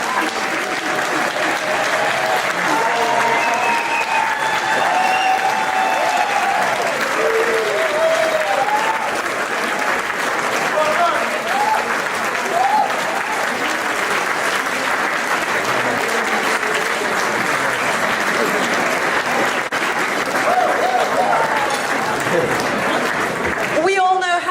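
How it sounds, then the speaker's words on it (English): A standing audience applauds and cheers at length during a Somali community event, steady dense clapping with scattered shouts and voices mixed in throughout. "give Abdul Sheikh a huge round of applause?"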